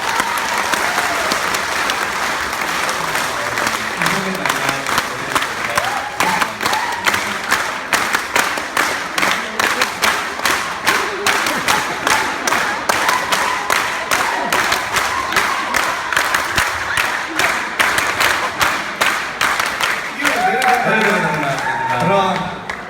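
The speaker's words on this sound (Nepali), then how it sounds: "दाइको सम्मानमा जोरदार ताली" Sustained, steady audience applause in honor of Dayahang Rai at a Kirat Rai community event, dense clapping filling the room, with a voice speaking briefly near the end.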